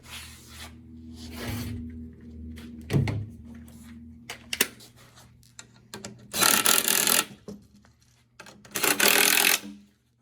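An impact wrench with a 7/16 socket tightens nuts over flat and lock washers while assembling an Adirondack chair kit. Two loud, harsh bursts of hammering rattle stand out against quieter handling and clunks of parts.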